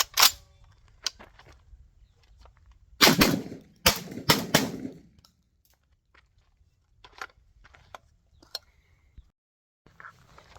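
Tokarev TT12 shotgun firing Gun Club shells at a range: several loud, sharp blasts, two spaced early, then a tight cluster of three or four, followed by quieter handling clicks and rustle.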